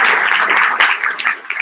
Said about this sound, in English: Guys, a little bit of applause would be nice.